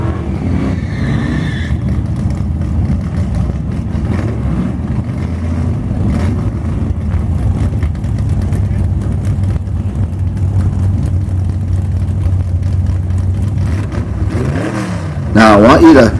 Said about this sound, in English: Hopefully the truck hooks up, and hopefully we can get a good clean pass.